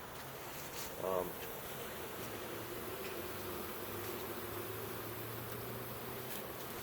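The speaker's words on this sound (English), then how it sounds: "We have our box of bees, our package of bees here." A steady, low buzz of honey bees in a package box hums throughout, a mass of bees droning close by, with a brief louder rustle near the start.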